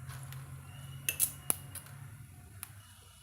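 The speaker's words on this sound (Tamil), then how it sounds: "நம்மளுக்கு கடுகு பொரிஞ்சு வந்துருச்சுங்க" Mustard seeds pop and splutter in hot oil while tempering for a ghee-roasted country bitter gourd fry, a few sharp crackles and spits over a low steady sizzle, close and fairly quiet.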